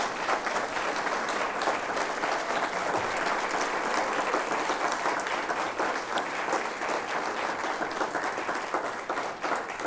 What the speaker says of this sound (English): So Congressman Frank, please allow us to acknowledge you again with a round of applause.